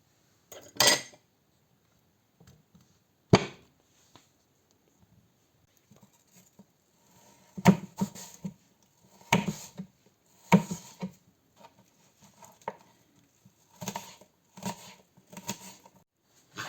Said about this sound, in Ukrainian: Дорізали останнє яблучко.